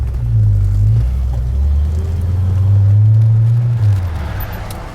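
A 1963 Studebaker V8 car engine while driving, a deep, steady rumble that rises and falls slightly as the car moves, heard from inside, close and loud with no speech.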